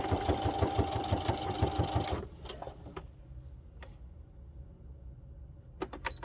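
A sewing machine stitches back and forth along a half-inch seam on a spa headband, a close, fast rhythmic whir for about two seconds, then stops, leaving scattered light clicks and handling sounds.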